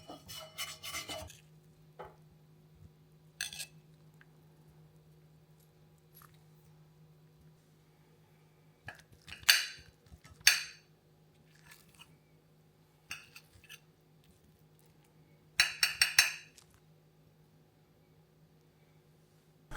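A Henckels ceramic nonstick pan scrubbed clean: scattered short scrapes and scrubbing strokes, close and fairly quiet, with a few louder clustered bursts over a faint steady hum and long quiet gaps.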